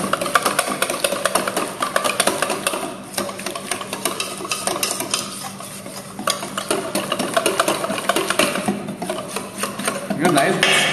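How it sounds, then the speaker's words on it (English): Waffle batter mixed with craft beer by hand, a steady wet stirring and scraping that continues throughout at close range, against a noisy demo background. "you have to manually mix it up like that"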